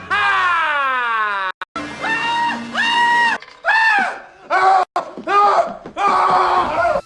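An actor screaming in the film Scrooged: a series of loud, close, strained yells and howls, some rising and falling in pitch, broken by short gaps and a few sharp thuds.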